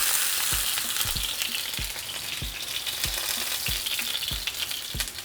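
Steady sizzle of a tortilla frying in oil on a comal for birria quesatacos, a continuous close crackle with a regular series of soft low thumps beneath it.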